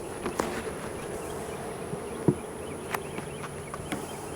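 Honeybees from a hive buzz steadily at low level, a soft continuous drone with a few brief closer passes and faint handling clicks, no talking.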